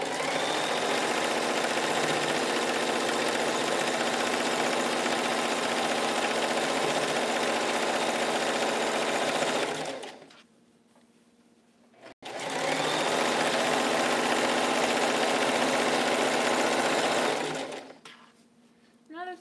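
A sewing machine stitches a quarter-inch seam on a pair of pants, running in a steady whir for about ten seconds, pausing briefly, then running again before stopping.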